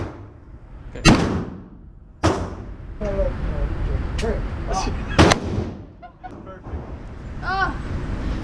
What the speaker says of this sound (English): my brother was gonna shoot an AR-15